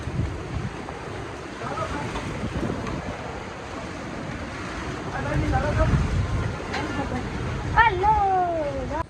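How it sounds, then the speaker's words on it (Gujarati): Steady wind rushes and buffets outdoors over farmland after a storm with rain, with a low rumble throughout and some faint chirping whistles near the end. "હવે વરસાદ રહી ગયો પણ હજી થોડો થોડો પવન ચાલુ છે"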